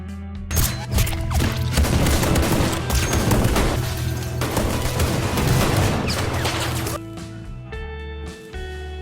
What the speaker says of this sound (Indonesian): tembakan itu berhasil mengenai paha Ricky dan ternyata tembakan tersebut juga mengenai si ayah